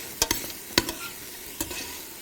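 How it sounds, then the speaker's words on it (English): Vegetables for a corn jalapeño chowder stirred in a pot, giving three separate scraping strokes spread over a couple of seconds, fairly quiet with a soft background hiss between them. "give these guys a stir"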